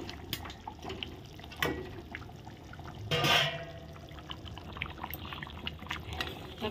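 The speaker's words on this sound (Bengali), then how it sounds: "এখন ভেজে রাখা মাছের মাথাগুলো সব দিয়ে দেবো" Fried fish heads slide into a pot of boiling gravy, giving a soft splash and wet pouring sounds over a steady low simmer, with light drips and clinks scattered through the quiet kitchen.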